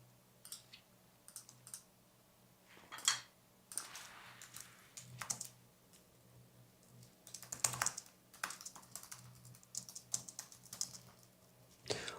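Computer keyboard typing in irregular clusters of quick key clicks separated by short pauses, close and fairly quiet over a low steady hum.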